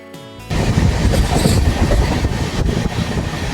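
Kirandul Express train at the Vizag railway station platform, heard as a loud, steady rumble of rolling carriages and rail noise that starts abruptly and continues close by without pause.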